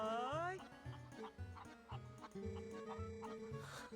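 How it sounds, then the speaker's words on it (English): Chickens in the Twilight Princess game world cluck in short repeated bursts, a close, lively run of fowl calls with no voices over them. "I've found the chicken place. Hi, chickens."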